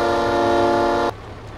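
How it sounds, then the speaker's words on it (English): A loud, sustained multi-tone train horn on a vehicle in Farming Simulator 22 blares for about a second, then cuts off abruptly, leaving low engine rumble. "Proper train horns."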